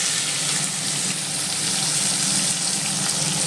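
Chopped onions go into hot oil already holding whole spices such as cumin, giving a steady, close, loud sizzle that hisses without a break and has no talk over it.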